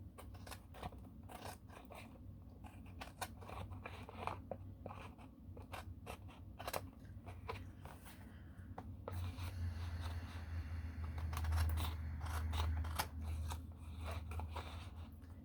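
Scissors trim a paper mailer up close, making a series of quick, crisp snips and paper rustles at a quiet level, with a low hum underneath.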